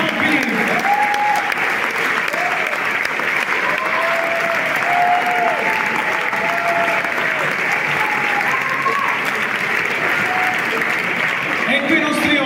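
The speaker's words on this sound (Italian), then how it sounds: "Per ora l'applausometro 1-0 per Pif rispetto al vescovo." A studio audience on an Italian talk show applauds a guest, steady dense clapping that holds loud and even from start to finish, with no talk over it.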